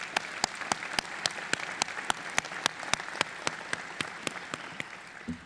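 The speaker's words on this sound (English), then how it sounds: "So let's give a round of applause to our families." Applause at a high school commencement ceremony comes as sharp, evenly spaced claps in a steady rhythm, fairly quiet, over a low room background.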